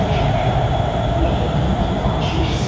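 A metro train near Zhujiang New Town runs at high speed, a steady, loud rumble and rushing roar holding constant throughout with no gaps or voices.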